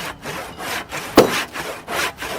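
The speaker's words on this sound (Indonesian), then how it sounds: "Suara gergaji dan palu terdengar dari sebuah sudut pesisir di Kelurahan Talumolo, Kota Gorontalo" A handsaw cuts through wood on a coastal raft-building site in Talumolo, Gorontalo, Indonesia, with rhythmic rasping back-and-forth strokes, close and steady, and one sharper knock partway through.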